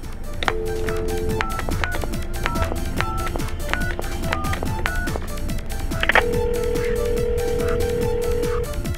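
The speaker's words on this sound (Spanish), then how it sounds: "toma el teléfono y hace una llamada" A telephone is dialed amid busy music, with steady tonal beeps stepping through several pitches and a long held tone near the end, all loud and continuous with no talk.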